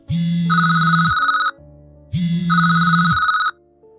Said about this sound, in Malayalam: നീല വെളിച്ചവുമായി ഫോൺ ശബ്ദിച്ചു